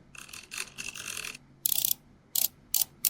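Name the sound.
mechanical sound effect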